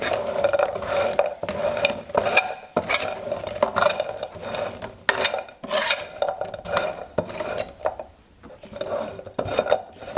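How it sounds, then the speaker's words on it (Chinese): Fried dough bits tossed with black and white sesame seeds in a wok, giving a steady scraping stir with clinking of the spatula against metal and a faint sizzle, close and continuous throughout with no speech. "倒入黑白芝麻，加入果子， 翻炒均匀"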